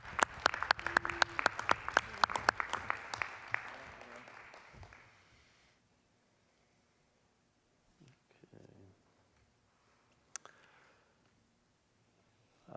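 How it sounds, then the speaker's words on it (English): Applause from the audience at a school board meeting, starting loud with dense clapping and tapering off over about five seconds, followed by quiet room with a few faint knocks. "Let's have a round of applause."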